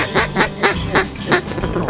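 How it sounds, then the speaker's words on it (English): Wild ducks quack loudly and repeatedly in a Mississippi hunting marsh, a rhythmic series of close calls, some overlapping, with no talk among them. "We got some ducks working"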